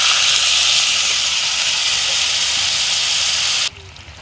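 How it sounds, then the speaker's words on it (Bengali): Water poured into a hot pan of frying soybean curry seasoned with cumin gives a loud, steady rushing hiss for about three and a half seconds, then cuts off abruptly into near quiet. "তো এবার দিয়ে দিব ঝোলের জন্য জল।"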